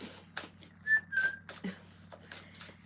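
A person whistles a short, thin two-note tune over a low steady hum, with faint scattered clicks and thumps around it and no speech.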